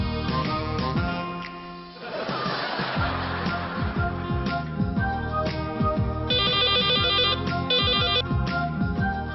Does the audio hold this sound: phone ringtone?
yes